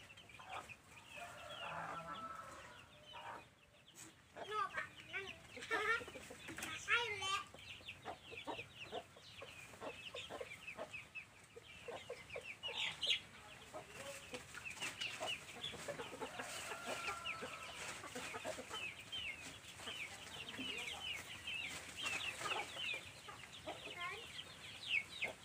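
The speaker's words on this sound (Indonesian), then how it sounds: "Untuk ayam laga ya." Fighting-breed chickens clucking and occasionally crowing at a moderate distance, a busy farmyard chorus with faint voices now and then.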